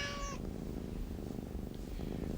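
A house cat meows in a comedic television commercial, one short clear meow at the start followed by quiet low background noise.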